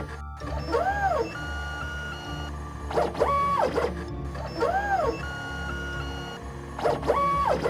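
A toy-making machine that has just been started hums steadily, with repeated rising-and-falling whirring sweeps that come roughly every two seconds, close by and moderately loud.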